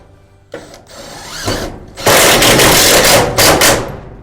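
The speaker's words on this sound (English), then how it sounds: "Using the hex screws, just tighten that through." Power driver sinking hex screws into the tracks of a shed's roller shutter door, a few short whirring bursts building into a loud, sustained buzzing run close up.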